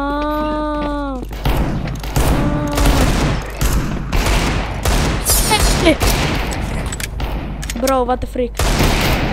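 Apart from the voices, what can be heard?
gunfire in Counter-Strike video game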